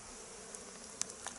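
Honeybees at a hive in February being calmed with smoke: a steady, continuous buzzing drone close by, with a few faint clicks and knocks over it.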